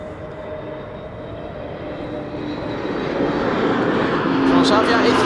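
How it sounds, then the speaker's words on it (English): A Transavia Airbus A321neo arriving at Amsterdam Schiphol from Lisbon on a sunny day: a broad jet roar that swells steadily as the airliner approaches, with muffled voices nearby. "Transavia A321neo arriving from Lisbon"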